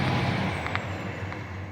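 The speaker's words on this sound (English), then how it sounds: "Hello, traffic." Steady road traffic rumbles past, with heavy vehicles such as trucks or buses among it, a continuous broad roar with a faint brake hiss partway through.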